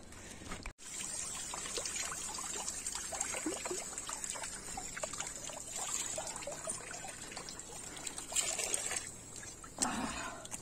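Water trickles steadily from a temple water tank, a continuous soft splashing with faint hiss and a brief thump near the start, moderately quiet and close throughout.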